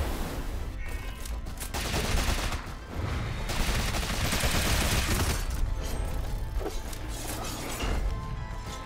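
Rapid bursts of gunfire fill a shooting-and-dodging fight in the video game Rogue Legacy 2, crackling in near-continuous volleys with a couple of brief dips, loud and dense throughout.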